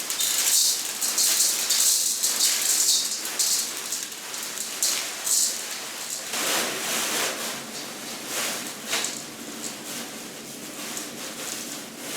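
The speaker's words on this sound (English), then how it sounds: "You can hear the bag rip. The berries are just falling out." Small firm elderberries patter and rattle out of a ripped plastic bag in irregular bursts, like light rain on a surface, mixed with crinkling plastic, close and fairly loud.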